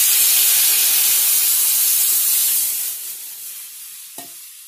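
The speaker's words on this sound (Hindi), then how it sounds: "देखिए हमने कड़ी में छौंक लगा दिया है।" Kadhi batter of besan poured into a hot pakoda kadhi tempering, a loud broad hiss and sizzle with stirring that slowly fades, ending in one small clink, no voices.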